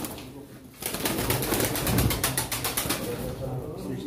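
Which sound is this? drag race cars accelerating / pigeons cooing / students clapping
pigeons cooing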